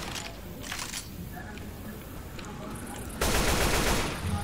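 Rapid bursts of gunfire from a zombie-shooter video game, several volleys early on, then a loud, sustained automatic barrage near the end.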